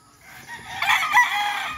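A rooster crows loudly at a gamefarm, one drawn-out call with other chickens clucking around it, fairly near and with no talk over it.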